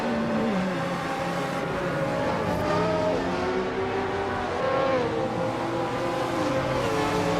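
A 1982 Rondo M382 race car in a video game race, its engine holding a steady high drone with rising and falling revs as it accelerates and shifts, continuous and fairly loud, with no talk.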